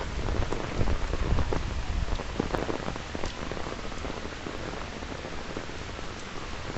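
Heavy typhoon rain with wind lashes Victoria Peak in Hong Kong, a dense continuous roar of pouring water and gusts, close and loud throughout, with no talk.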